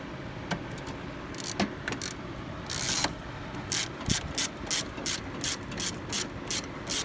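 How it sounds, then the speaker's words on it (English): A hand ratchet clicks in repeated short bursts while loosening a bolt on the brake master cylinder of a 2006-2011 Honda Civic, the close, crisp pawl clicks coming in quick rhythmic strokes with brief pauses between them. "I'm going to use my hand with a ratchet"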